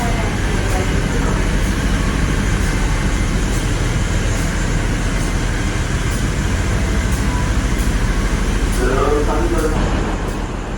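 Steady, loud rumble inside a Pramex KRD diesel railcar on the Yogyakarta–Kutoarjo line, with the engine housed in the passenger cabin; continuous droning engine and wheel noise fills the whole stretch, with faint rhythmic clicks from the track.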